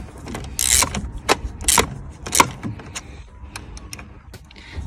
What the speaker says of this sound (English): So you want to use a 10mm to get the battery off.